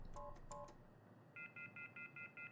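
Phone keypad tones from the video game Mortuary Assistant: two quick tone pairs, then a brief pause and six evenly spaced dialing beeps in a steady rhythm, clean and fairly faint.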